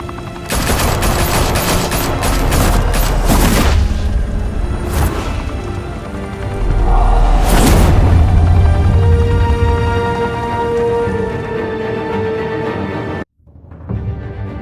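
Heavy gunfire erupts in a Batman game set in Gotham, loud sustained bursts of automatic shots with booming impacts that run for several seconds, then ease into a quieter tail before cutting off.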